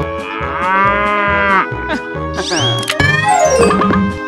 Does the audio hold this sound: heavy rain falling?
no